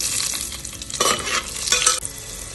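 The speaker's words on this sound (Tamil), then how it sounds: "நான் இப்போ பச்சை மிளகாயை சேர்த்துக்கிறேன்." Green chillies hit hot ghee and oil in a pot for vegetable biryani, crackling in a loud, close, continuous sizzle with bursts of sharper spitting as they are stirred.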